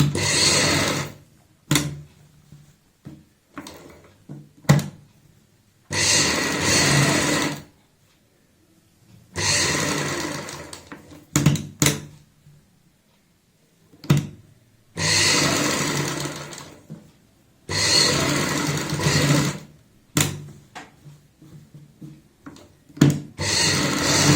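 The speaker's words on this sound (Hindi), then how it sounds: "यहाँ पे जहाँ पे सेट बैठता है बिल्कुल सेंटर पॉइंट का ध्यान रखते हुए सिलाई लगाएंगे।" A sewing machine stitches a kurti neckline in repeated bursts of loud, whirring motor drive lasting a few seconds each, separated by quiet pauses and short taps as the fabric is adjusted, close up and without talking.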